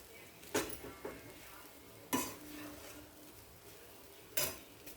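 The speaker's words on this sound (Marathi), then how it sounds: "सगळा असा मसाल्यामध्ये आपल्याला मिक्स करून घ्यायचा आहे" Leftover chapati chivda is tossed with spices in a pan: three sharp scraping clatters of a spoon against metal, separated by quiet stirring and a faint sizzle, with no talking.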